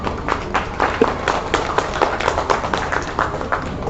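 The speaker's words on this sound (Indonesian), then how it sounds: "Tepuk tangan untuk Salma." Applause for Salma, a student at an open graduation exam for santri at Miftahul Huda Jambewangi, with a modest group's claps forming a steady patter of sharp strikes for about four seconds.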